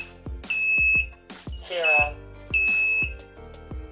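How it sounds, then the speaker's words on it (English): A drone radio controller running OpenTX emits a lost-connection alarm, a series of sharp electronic beeps, some sustained and some short, loud and close amid handling clicks and taps. "it should start beeping, telling you that it lost connection"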